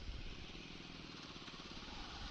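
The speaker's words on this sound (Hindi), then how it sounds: "बाइक के बाइक का साउंड भी बढ़िया है" Honda SP motorcycle engine while riding through traffic near Ludhiana, a low, steady rhythmic thrum with a regular pulsing beat, faint and continuous, with wind noise and no talking.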